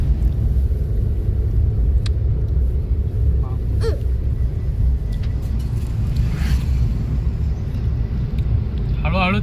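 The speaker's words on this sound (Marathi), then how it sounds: "हळूहळू चालवतोय गाडी." A car creeps slowly along a badly broken road, giving a steady, loud low rumble with wind buffeting the microphone and a few faint clicks and knocks over the top.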